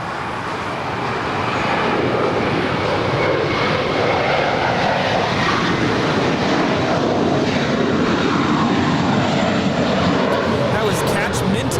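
An airliner departs LAX on flight 524 to New York. Its jet roar swells over the first two seconds, then holds as a loud, sustained rumble.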